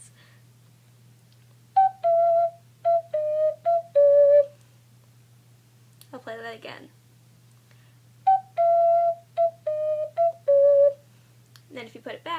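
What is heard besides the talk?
ocarina playing the theme from Tokyo Ghoul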